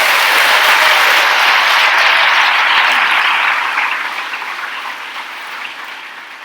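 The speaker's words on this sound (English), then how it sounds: "I think we owe him at least one more extraordinary round of applause." Loud, dense applause from a large audience honoring a speaker at a political gathering, steady at first and then gradually fading over the last few seconds.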